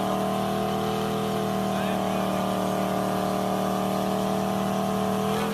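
An old beat-up pickup truck revs hard and steadily during a burnout, a loud, sustained engine roar that holds high throughout, with a faint voice underneath.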